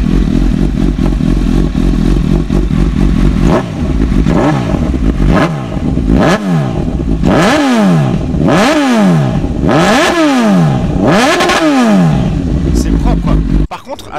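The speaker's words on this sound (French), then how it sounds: "Là c'est marqué CB1000R full tube." Honda CB1000R motorcycle with a full exhaust system revving up close: a steady idle burble, then a run of about six sharp throttle blips, each rising and falling quickly, loud and crisp.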